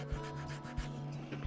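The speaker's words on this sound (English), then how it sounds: "by using a loose piece of sandpaper, you sort of automatically, when you're near the edge, you just go over the edge and the edge gets rounded off a bit" Loose sandpaper rubs over wooden edges to round them off, making a steady scratchy hiss broken by several quick, rhythmic strokes close by.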